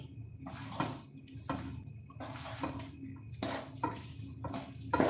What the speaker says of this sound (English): we're just gonna keep mixing, and then we'll go with the whisk, and then we'll go with the spoon